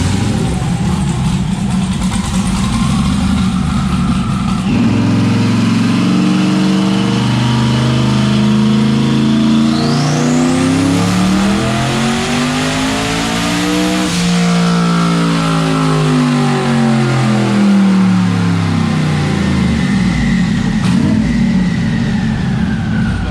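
A car engine revs hard on a dyno, climbing through a long wide-open pull to a high, whining peak before dropping back toward idle. It is loud and close throughout.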